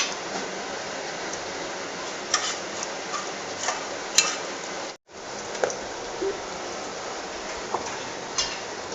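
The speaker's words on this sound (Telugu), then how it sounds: "తాలింపు దినుసులు కూడా వేసేస్తున్నాం." Tempering spices crackle in hot oil in a pan for a potato, onion and green chilli curry: a soft, steady frying hiss dotted with small ticks and pops, briefly cut off midway.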